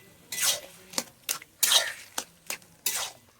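Taro leaves being stirred in a cooking pot over a wood fire, giving seven distinct scraping, rustling strokes in an uneven rhythm, close and fairly quiet, with no talking.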